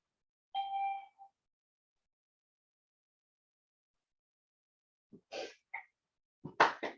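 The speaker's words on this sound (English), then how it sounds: "My phone likes to beep sometimes for no reason." A phone gives a single short electronic beep in near silence, followed a few seconds later by soft rustling and breathy handling noises.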